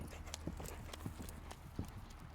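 Rhythmic hoofbeats of a horse cantering during a riding lesson, soft thuds in quick repeating groups, somewhat distant and faint against outdoor ambience.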